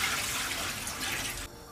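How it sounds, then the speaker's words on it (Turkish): Water from freshly cleaned mussels pours off through a strainer in a kitchen, a steady close rush of running liquid that cuts off abruptly near the end. "Daha sonra suyunu süzelim."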